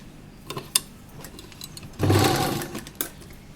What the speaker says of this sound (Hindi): अब हम यहाँ किनारे पर सिलाई लगाएंगे